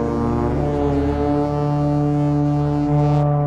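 A deep, powerful synthesized horn blares continuously, a thick sustained low drone with rich harmonics, loud and unbroken throughout.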